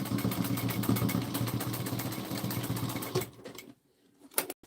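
A sewing machine back stitching fabric on a trinket pouch, a fast, even mechanical whirring hum running close for about three seconds, then stopping, followed by a few faint clicks.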